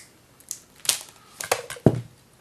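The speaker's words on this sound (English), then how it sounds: "I'll grab my cutters and I'll just cut off a section." Wire cutters snip through a section of picture-framing hanging wire with several sharp, close clicks and crunches, the last one loudest, heard alone in a quiet room.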